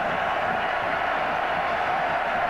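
Football stadium crowd at a Virginia Tech versus UNC game, a steady, dense roar of cheering and noise from thousands of fans that stays loud and even throughout, with no clear breaks.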